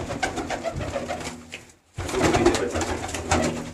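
Pigeons cooing in a Malwa breeder's loft, low throaty coos repeating close by with a brief lull midway before the calls resume over steady background rustle.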